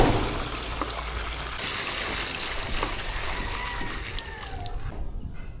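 Water poured into a container on a building site, where a tap is being fitted into galvanized iron sheeting; a steady broadband rush of flowing water runs throughout and cuts off abruptly near the end.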